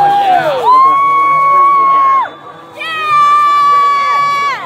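Visiting fans at a high school football game make a loud, sustained crowd noise, with long held tones from horns or singing rising over it in two extended stretches.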